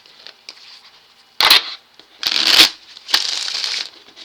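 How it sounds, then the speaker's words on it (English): Several short bursts of cards being riffled and shuffled, each a crisp flurry of flicks, with brief pauses between and faint background noise. "Let's shuffle the deck."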